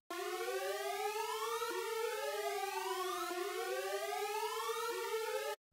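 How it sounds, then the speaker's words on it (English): A synthetic siren sweeps upward repeatedly in a steady cycle, bright and buzzy with strong harmonics, loud and alone, cutting off abruptly at the end. "Here's another siren."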